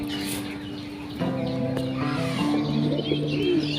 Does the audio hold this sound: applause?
no